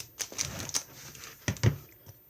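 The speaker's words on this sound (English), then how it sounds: "Now I'm going to cut off the corners." Corners are trimmed off a paper mini album with a cutting tool, giving a few sharp, close clicks and snips in two short bursts, with no voices.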